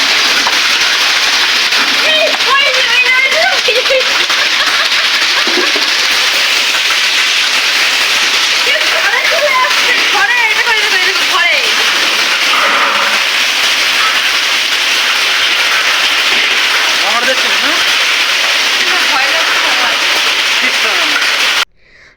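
A hailstorm with heavy rain pours down in a loud, continuous roar, close by and unbroken for about twenty seconds, with faint voices mixed in.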